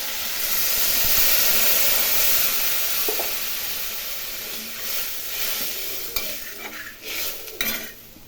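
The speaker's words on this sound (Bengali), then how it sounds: "কষানো হয়ে গেছে, জল দিয়ে দেবো।" Water poured into a hot pan of fried fish masala hisses and sizzles loudly at first, then settles into a softer bubbling with occasional clinks of a utensil against the pan.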